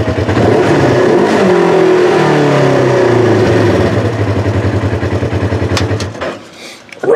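A 2015 Polaris RZR XP 1000 side-by-side with a freshly worked engine runs loud and close, revving up and settling into a rough, throbbing idle before a brief dip near the end.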